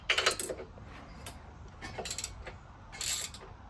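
Ratchet turning a bracket bolt on the exhaust of a classic Fiat 500, a few short, quiet bursts of clicking pawl separated by pauses, close up.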